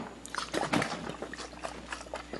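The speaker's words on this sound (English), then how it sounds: "ASMR bottle shaking. Soy sauce edition." A soy sauce bottle is shaken up close, its liquid sloshing in quick irregular bursts over a faint background hum.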